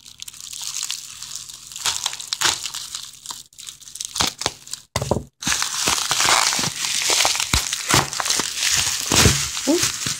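Candle packaging being cut and pulled open: loud, close crinkling, crunching and tearing of wrapping in irregular bursts, with a brief pause partway through.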